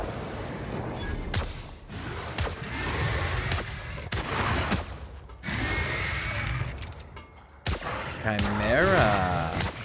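Gunfire and explosive blasts from the video game Outer Worlds come in loud bursts separated by brief gaps, with game sounds layered over and between them.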